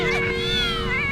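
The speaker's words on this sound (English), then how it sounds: "Oh my gosh, the cats are freaking out." Cats meow loudly and agitatedly in a home, overlapping yowls, close and continuous, with a steady electronic tone from a game playing underneath.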